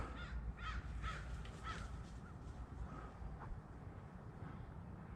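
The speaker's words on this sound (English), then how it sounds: "Oh, I think that other one was a crow." Crows cawing on a rural hillside estate, a run of harsh caws early on, then fainter calls over wind and rumbling background noise.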